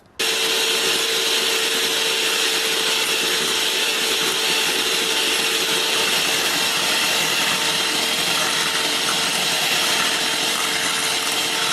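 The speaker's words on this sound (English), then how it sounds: "use the electric whisk again and whisk it up" An electric whisk whirs steadily through double cream, a loud, continuous high buzzing drone that starts abruptly and holds at an even pitch without pause.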